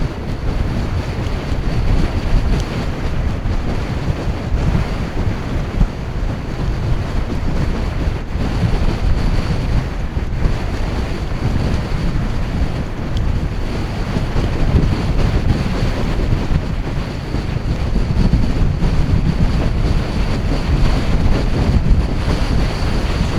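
Strong wind buffets the microphone on the Irish coast, a loud, constant low rumble and roar with gusts rising and falling throughout and no voices.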